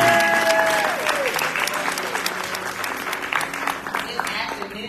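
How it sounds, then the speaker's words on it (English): Audience applause for the Teachers of the Year at the Elevate Edgecombe Summit, a steady roomful of clapping that holds for several seconds, loud at first and easing slightly, with some voices mixed in. "Can we give them a round of applause"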